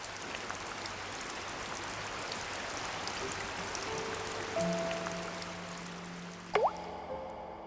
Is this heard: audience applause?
no